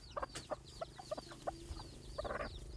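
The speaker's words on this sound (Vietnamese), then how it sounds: "Đây là gà tre tiếng dốc đây nè." Bantam chicken of about 800–900 grams clucking on a tamarind-tree sheep farm in Ninh Thuan, Vietnam; a run of short, close clucks repeating irregularly, with faint bird chirps in the background.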